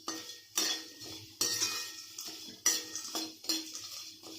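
Whole spices, triphala and large black cardamom dry-roasting in a pan for homemade garam masala, heard as a rhythmic series of close spatula scrapes and rattling clinks against the metal, about eight strokes.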